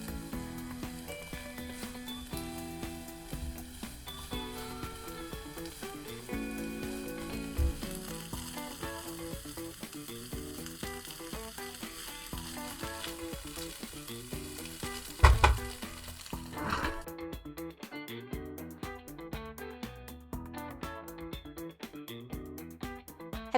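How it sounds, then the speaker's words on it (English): Beaten eggs and cauliflower fry in a pan with a constant sizzle, broken by scraping stirs and a couple of sharper knocks, close and steady for the full stretch. "Pour the eggs over the cauliflower and stir for about 5 minutes."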